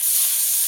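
A splash of water hitting a hot pan of spiced fish masala, giving a brief, loud, close hiss of steam.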